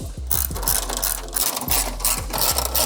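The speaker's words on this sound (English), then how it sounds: "now it's time to tighten up your bolts" Bolts being tightened on board and batten shear dies with a ratchet, giving a steady run of close, rapid clicking strokes over a continuous mechanical hum with no talking.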